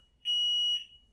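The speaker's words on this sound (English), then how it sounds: "The fire alarm." Fire alarm from the 1981 space film Outland sounding as a single steady electronic tone, clear and sustained for about half a second before cutting off.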